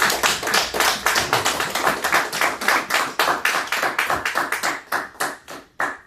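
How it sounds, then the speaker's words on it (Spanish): A small congregation at a church service claps in a quick, even rhythm, near and loud, each sharp clap distinct as the beat carries on steadily before slowing and fading at the end. "Vamos a dar un aplauso al Señor."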